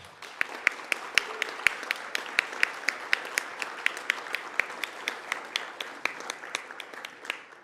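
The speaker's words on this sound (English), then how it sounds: "Vous pouvez applaudir." An audience at a school awards ceremony claps for the award recipients, a thin, even patter of many hands with a few sharp, close claps standing out, steady throughout.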